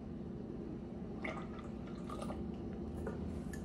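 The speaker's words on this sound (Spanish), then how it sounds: "Un cuarto de taza de leche." A quarter cup of milk is poured into a mixture, giving soft, faint trickling and dripping sounds in a few scattered bursts over a steady low room hum.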